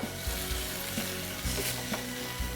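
White wine goes into a hot pan of bacon and okra, giving a loud, steady sizzle with a few soft stirring knocks, close and without talk.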